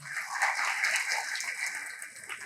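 At a BRS political rally in Nagar Kurnool, a crowd breaks into dense, sustained clapping, a bright even patter of applause that slowly tapers off toward the end.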